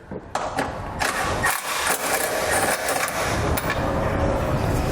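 An 18mm socket wrench removes a factory bolt from the frame rail of a 2016 Dodge Grand Caravan while a trailer hitch is fitted, producing loud, continuous ratcheting and mechanical grinding with a few sharp clanks, close and steady.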